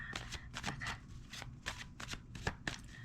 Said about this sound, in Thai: วันนี้เราจะมาเปิดไพ่ แปดใบกันวันนี้